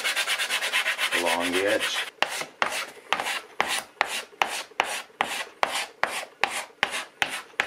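A guitar back's edge being sanded during a back removal and re-glue repair: about a dozen close, rhythmic rasping strokes after a brief spoken phrase at the start.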